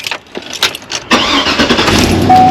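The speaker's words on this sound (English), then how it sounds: "Turn on the car," A car engine cranks briefly and then catches, rising into a loud, steady idle close by.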